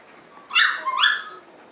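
A calm young puppy lets out a single short, high whimpering whine, close and clear against a quiet room, rising then trailing off within about a second.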